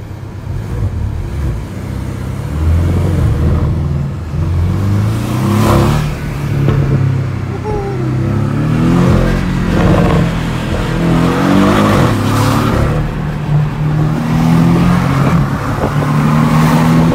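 A 2019 Porsche 718 engine revs and accelerates nearby, loud and up close, with repeated rising and falling pitch sweeps and no talking.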